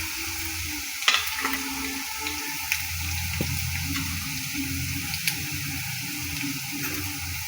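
Green garlic, ginger paste and green chillies fry and are stirred in a pan, a soft continuous sizzle with a few spoon clinks and scrapes, fairly close and without talking.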